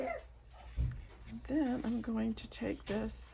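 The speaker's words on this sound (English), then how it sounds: "Sorry about the dogs." Dogs whimper and yip in the background of an indoor crafting session, their whines rising and falling while a person talks over them up close.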